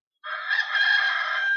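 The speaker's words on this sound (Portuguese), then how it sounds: "Ah, o galo já cantou," A rooster crows once in a single long, loud, close call that holds steady to the end without fading.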